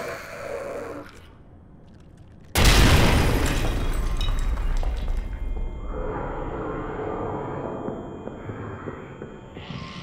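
A sudden loud grenade blast in the horror game Amnesia The Bunker bursts after a quiet stretch, then rumbles and decays with debris and ringing for several seconds.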